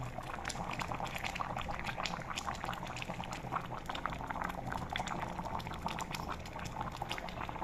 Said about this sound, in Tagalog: Medyo kumulo na.